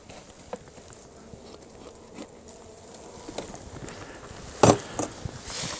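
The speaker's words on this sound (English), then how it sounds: "when I smoke them, I can hear them buzzing loudly" Low, steady buzzing from many honeybees in a hive during a winter inspection after smoking fills the background, with a few sharp knocks and scrapes near the end.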